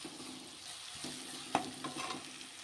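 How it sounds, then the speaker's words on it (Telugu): Onions with curry leaves fry gently in a pan, giving a soft sizzle and a few faint scrapes and taps of a stirring spoon. "ఈ ఉల్లిపాయ బాగా ఫ్రై అయ్యేదాకా ఫ్రై చేసుకోండి, బాగా మగ్గేదాకా."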